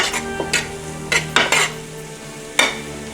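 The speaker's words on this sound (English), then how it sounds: "To the peanut oil, I'm going to go ahead and add the scallion in there. Give that a stir." Scallions tossed in hot peanut oil in a pan, with a steady sizzle and a few sharp scrapes and clinks of a utensil against the metal pan as it stirs. No one speaks.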